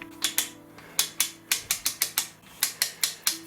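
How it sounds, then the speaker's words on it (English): A spring winder ratchets a clock mainspring from a Sessions banjo wall clock, giving a series of sharp, close metallic clicks in uneven bursts, each with a short decaying ring. "Now we're going to wind the spring up."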